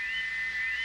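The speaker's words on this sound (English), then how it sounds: "But Gordon never whistled like that" Gordon, the animated steam locomotive, gives a single sustained whistle: one steady, held high note with no break, moderately faint, and no voices over it.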